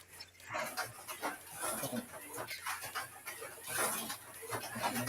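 Dogs pant in quick, breathy bursts close by, steady and moderately loud, with some barking-like yips and a voice talking over them outdoors.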